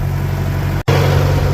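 A truck engine cranks over on a cold start without firing, churning steadily, breaking off for a split second before resuming with the same low, even chugging.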